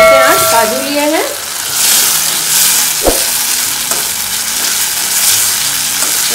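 Cashews fry in a pan for lauki kofta curry, a loud, continuous sizzle with a sharp utensil knock midway and a brief squeaky scrape near the start.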